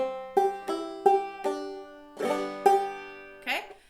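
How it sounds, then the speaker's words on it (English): Plucked clawhammer banjo notes with a double thumb ring out in a quick bouncy pattern, several bright picked strokes with short gaps, close and clear, ending on a brushed strum. "Now I'm doing a little bit of a double thumb there."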